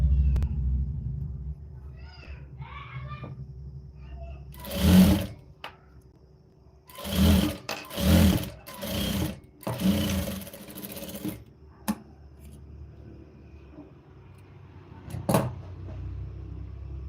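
A sewing machine stitching a blouse runs in several short, loud bursts of whirring, separated by pauses with a low background hum, the longest stretch of stitching falling mid-clip.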